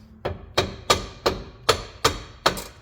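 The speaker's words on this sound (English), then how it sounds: "Let me find my hammer and tap it back." A hammer taps a rear shock into place on an S12 Turbo hatchback, seven sharp, evenly spaced metallic knocks that are close and clear, each ringing briefly, with no talking.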